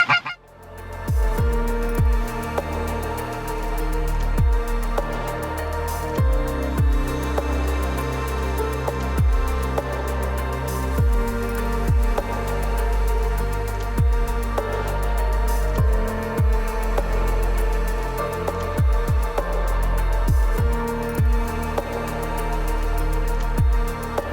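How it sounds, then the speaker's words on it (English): Geese honk repeatedly on a Nebraska morning, fairly loud, a steady chorus of calls over a constant low rumble. "we got some ducks and geese moving this morning"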